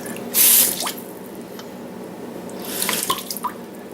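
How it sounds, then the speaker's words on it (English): Water splashing and running off a plastic surface in a simple science test, with dripping and trickling bursts near the start and again toward the end, close and clear. "you can see the water pretty much running right off the plastic as advertised"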